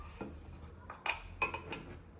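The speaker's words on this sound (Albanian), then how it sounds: "Nuk i kalojmë në dy tigan, po i kalojmë në një tjetër." Suxhuk sausages are moved from one frying pan into another, giving a few light, scattered metallic clinks and scrapes of utensils against the pans, close and quiet.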